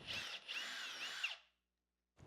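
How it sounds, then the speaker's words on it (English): A power drill bores holes through a wooden board held off the edge of a workbench, a loud whining burst that runs about a second and a half, then stops, with a brief second start at the end. "I finished the holes on the second board by drilling them off of the edge of the workbench"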